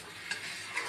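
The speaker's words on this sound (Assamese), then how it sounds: "এতিয়া আকৌ মই 5 মিনিট এইখিনি ভাজিম।" Meat, potatoes and chopped tomato fry in a pan with a faint, soft sizzle and light stirring scrapes, quiet and brief.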